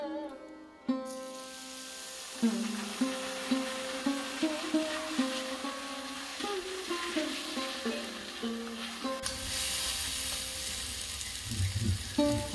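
Tomato paste and ground spices fry with broad beans and potatoes in a pan for a fish curry, giving a steady close sizzle under sustained tonal music, with a brighter, louder frying burst near the end.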